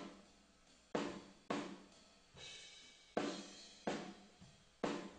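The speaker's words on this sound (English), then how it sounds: "our ambient track that you can create with the speakers in the room" Ambient drum track played back through speakers in a room and re-recorded, with roomy kit hits at a steady mid-tempo beat, each strike decaying into room reverb, moderately soft and without voices.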